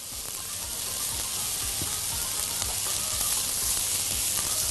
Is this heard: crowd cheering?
no